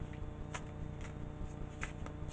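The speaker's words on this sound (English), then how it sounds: "just give it a little bit of a shuffle" A deck of tarot cards is shuffled close by in several quick riffling bursts with a soft, papery flutter and no voice over it.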